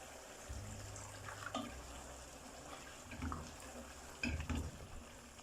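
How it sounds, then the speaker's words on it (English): Water poured into a pot of egg stew, a soft, continuous trickle and splash at low volume with a few louder knocks of the pot near the end. "Then I'll give it a little bit of water to cook."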